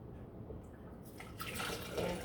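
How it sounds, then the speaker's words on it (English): Tap water rinsing leftover ginger pulp from a kitchen container begins softly, then swells after about a second into a fuller, close splashing gush that keeps running to the end. "I usually just rinse it because it still has pulp in it"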